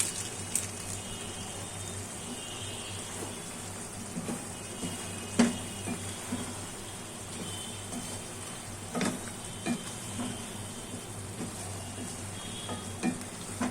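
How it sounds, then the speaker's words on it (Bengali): Vegetables for khichuri sauté in a pan with a low steady sizzle, punctuated by occasional scrapes and clinks of a spoon stirring against the pan. "তো আমার সবজিটা প্রায় মজে এসেছে কষানোটা একটু শেষ পর্যায়ে"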